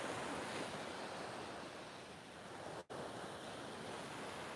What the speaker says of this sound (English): There's the sea this morning.